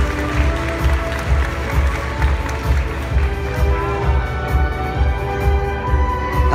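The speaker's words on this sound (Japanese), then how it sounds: "拍手でお送りいただきます。" Steady applause from an audience at a boat racing award ceremony, a dense even patter of clapping that carries throughout without a break, moderately loud and somewhat distant.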